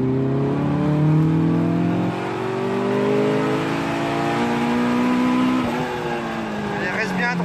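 A Caterham car accelerates on a race circuit, its engine note rising steadily through a gear, shifting and climbing again, continuous and fairly close with a faint voice beneath.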